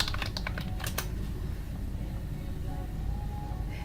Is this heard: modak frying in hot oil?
no